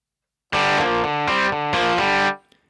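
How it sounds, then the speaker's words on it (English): A Ketron keyboard plays a short run of sustained notes through a distortion effect with no reverb, gritty and buzzing, each note cutting off dry with no trailing echo. "now I have just distortion sound"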